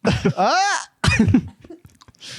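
A person coughs several times up close, harsh wet bursts with a drawn-out wheezy strain between them, followed by a short breathy exhale.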